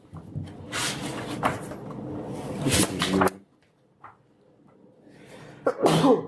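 A loud, forceful sneeze bursts out, followed by quiet, then a second sharp sneeze-like burst at the end.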